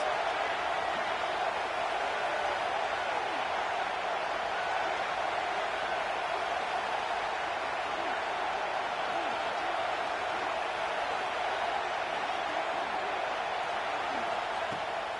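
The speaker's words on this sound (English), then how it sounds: "this crowd is getting behind this defense" Football stadium crowd during a college game between OSU and FSU, a dense, continuous roar of cheering for the defense on a third down in the red zone, loud and sustained with no pauses.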